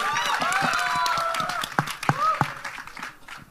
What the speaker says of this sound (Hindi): कम ऑन गाइस, जोरदार ताली होनी चाहिए।